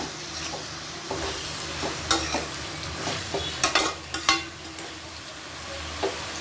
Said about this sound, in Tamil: வெங்காயம் சேர்த்துட்டு அதை நல்லா கலந்து விட்டுட்டு அடுப்பை வந்து ஒரு மீடியம் ஃப்ளேமில் வச்சு குக் பண்ணிக்கோங்க